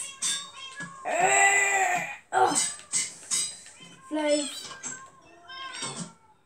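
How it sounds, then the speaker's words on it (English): Cats meowing in the Minecraft video game, several short mews in quick succession mixed under a child's steady chatter and a second voice. "I'm actually feeding my cats and they're getting so many babies."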